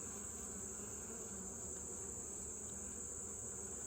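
Honeybees hum in a dense, continuous drone inside a hive while a new bee emerges from its cell, steady and close with no pauses.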